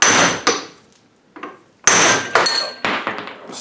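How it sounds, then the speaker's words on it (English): A hammer strikes the wheel hub on an Acura RSX during a wheel bearing and ball joint replacement, giving a few loud, sharp metallic blows with ringing decay and short pauses between them, with no talking. "the bigger the hammer, the easier you'll get this out"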